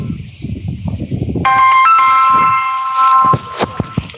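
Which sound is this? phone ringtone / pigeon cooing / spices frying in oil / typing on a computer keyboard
phone ringtone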